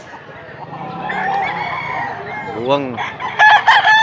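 A rooster for sale at a market in Mantalungon, Cebu, gives a single close, loud crow, with soft clucking before it and brief voices nearby.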